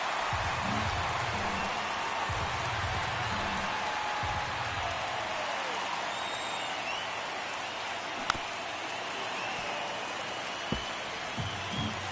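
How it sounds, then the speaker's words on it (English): Baseball stadium crowd in MLB The Show 23 during a tight ninth inning, Milwaukee Brewers at Chicago: a steady, dense roar of the crowd holds throughout, with a few faint sharp clicks near the end and no clear talking. "Crowd locked in right now."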